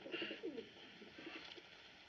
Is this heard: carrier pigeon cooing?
yes